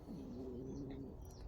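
Pigeons kept indoors coo softly once in a low, rolling call over a constant background hum, faint and somewhat distant, with no talking.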